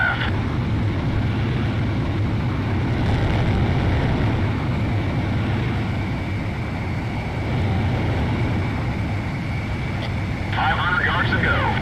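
Military jet aircraft closing on a refueling craft in the video game Ace Combat Zero: The Belkan War, a constant loud engine roar filling the whole stretch, with radio voices speaking over it.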